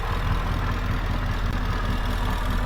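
A 2013 Ford F150 SVT Raptor with a V8 idling steadily, a close, even low rumble running unbroken with no talk.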